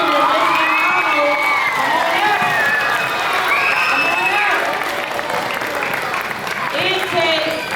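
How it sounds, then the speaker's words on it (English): A school production audience claps and cheers for the children and staff, loud sustained applause filled with whoops and excited children's shouts, a crowded roaring mix that holds steady throughout. "these children and this amazing staff deserve another round of applause"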